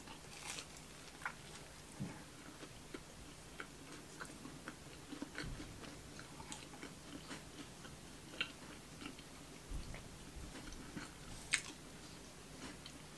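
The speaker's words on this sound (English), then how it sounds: "I'm just gonna go in for the rest of the pizza bite." Someone chews a bite of croissant pizza close to the mic, quiet, irregular wet chewing with small clicks and squishes throughout and no talking.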